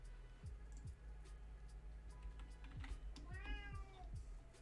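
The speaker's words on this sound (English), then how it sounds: "That would be Miss Kitty, my cat, deciding to make a guest appearance on stream." Pet cat named Miss Kitty meowing indoors during a Minecraft stream, a short rising-and-falling meow near the end amid steady keyboard typing and clicking, with low room hum underneath.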